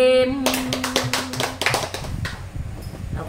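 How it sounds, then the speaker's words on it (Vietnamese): A burst of hand clapping follows a brief sung or held tone, a dozen sharp claps in quick irregular succession, close and loud, fading into quieter taps and room noise. "Nè, vỗ tay."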